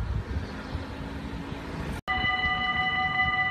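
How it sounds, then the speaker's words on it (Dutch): A train rolls through Nieuwstadt in the Netherlands, a steady close rumble of rail noise that cuts out briefly, then returns with high whining tones from the passing cars. "Laat het alsjeblieft één trein zijn en niet twee NS."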